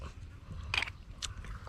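Quiet, close crunching bites of steamed mussels, two or three sharp cracks over low background rumble, shellfish chewed noisily.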